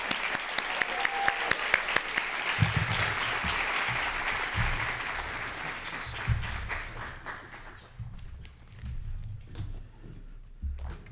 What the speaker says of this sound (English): let's give a round of applause for our preeminent civil rights attorney, keynote speaker, Damon Hewitt.